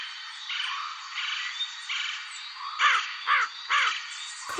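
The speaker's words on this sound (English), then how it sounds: "Crow." Crow calls from a children's bird-sound lesson: a faint rhythmic background chorus first, then three loud, harsh caws in quick succession, each sharp and descending, ending with a brief thump.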